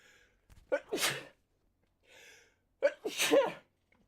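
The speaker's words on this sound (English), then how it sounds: "Pardon me, of all the times to sneeze" A person sneezes twice, close and clear, each sneeze opening with a sharp intake of breath and bursting into an explosive release, with a short quiet gap between the two.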